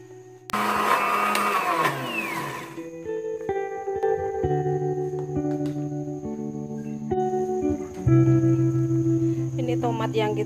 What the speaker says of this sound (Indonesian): Kita tinggal blender bawang.